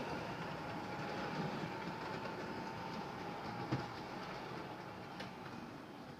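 A train runs along the track with a faint, continuous rolling rumble and soft rhythmic wheel clatter, heard alone at a distance and steady throughout.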